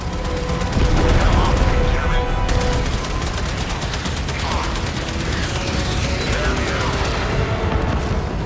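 Torpedoes firing in a video game: loud, continuous rapid-fire booms and rattling bursts fill the whole stretch with dense, dull weapon noise.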